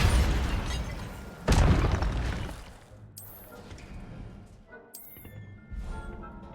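The Incendio fire spell in Hogwarts Legacy bursts out with a heavy whooshing blast, followed by crackling magical effects, a second burst and rumbling combat sounds.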